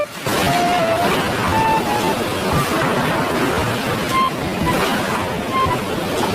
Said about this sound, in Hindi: जोर का तूफान और बारिश आ जाती है।